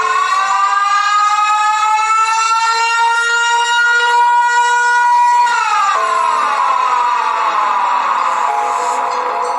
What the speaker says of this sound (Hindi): साइरन हेड जोरदार आवाज निकालकर गुल्ली बुल्ली और शॉन के नाक में दम कर देता है।